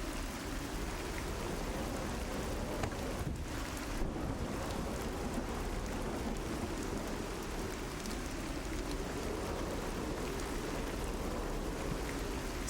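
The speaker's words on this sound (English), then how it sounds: "Of course, we have to have this confrontation in the rain." Steady, dense rain falls in an adventure game scene, a continuous broadband hiss without voices, with faint tonal music underneath.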